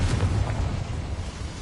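A Confringo fire spell bursts in the Hogwarts video game as a short, heavy, low-pitched explosion rumble that is loud and close, then fades slightly with no talking.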